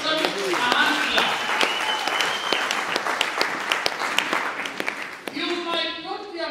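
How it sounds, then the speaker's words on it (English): A crowd claps and applauds steadily, with individual sharp claps standing out, while a voice speaks over the applause. "Can we give ourselves a hand clap?"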